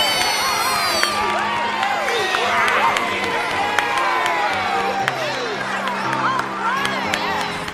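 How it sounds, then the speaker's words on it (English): Film crowd of cheering, whooping and clapping, a busy wash of many excited voices with overlapping shouts and scattered claps, sustained throughout. "Everyone at home, please give a big round of applause for the gender surgeon."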